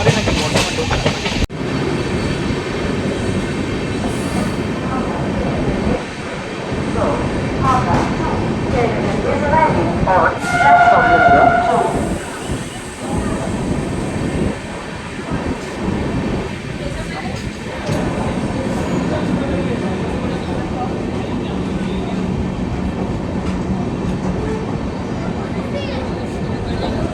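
Sahid Express passenger train rolling on rails on the approach to Barddhaman, a steady rumble of wheels and carriage noise with occasional rattles, with people talking over it.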